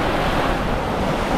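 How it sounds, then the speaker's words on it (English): Waves crash on Lake Te Anau, a loud, dense roar of surf mixed with gusty wind buffeting the microphone, continuous and close. "the waves are just torrential waves. Crashing."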